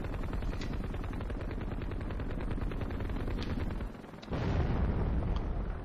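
Ground fire in the helicopter game Heliborne: continuous dense rattling gunfire with bursts and thuds, briefly dipping before a louder explosive surge, busy and close throughout.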